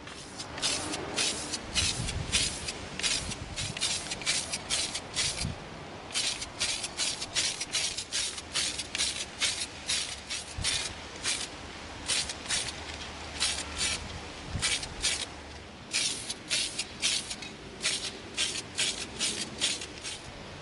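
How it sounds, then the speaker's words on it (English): An aerosol can of satin nickel spray paint sprays in quick repeated bursts onto an EVA foam blaster prop, close by, the hissing pulses steady with brief gaps throughout. "We're gonna begin spraying our blaster with satin nickel."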